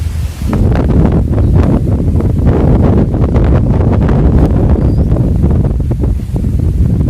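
Strong wind blows through a village, a loud, continuous roaring buffet with gusty surges that batter the microphone from start to finish, with no voices.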